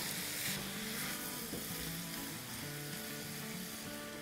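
Chicken in yogurt and masala sizzles steadily in a pan on the stove, a dense, continuous frying hiss close up with faint stirring and no speech.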